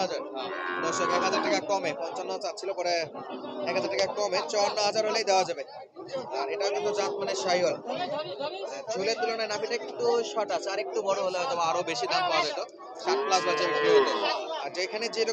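Cattle moo among the stock at a farm-animal market near the border, where Sahiwal and Gir bulls are for sale. The calls sit under almost constant overlapping human talk and chatter.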